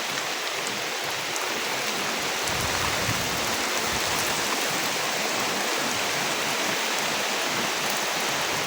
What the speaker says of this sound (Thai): ฝนตกแห้งขนาดเลยเนาะทั้งลมพัดอีกนะ